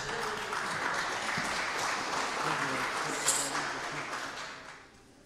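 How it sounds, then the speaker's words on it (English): An audience gives a warm, sustained round of applause welcoming performer Richard Bosum, a steady wash of clapping that holds for several seconds before thinning out at the end, with some faint voices mixed in. "Okay, everyone, round of applause, Richard Bosom."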